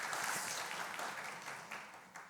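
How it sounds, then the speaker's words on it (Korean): Congregational applause during a Sunday worship service in a Korean church, a soft, diffuse patter of clapping from a crowd that slowly fades over a couple of seconds, heard at a distance with no talking. "이건 우리가 보내기 싫은 마음을 담아서 하는 박수야."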